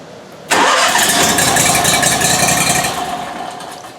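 A commercial engine cranks on a key switch and catches abruptly, then runs close and loud with a rattly mid-pitched roar before settling lower toward idle.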